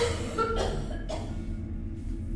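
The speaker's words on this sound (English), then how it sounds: "A child's cough." Two quick coughs from a child sound a half second apart, light and fairly close, over a low steady background hum.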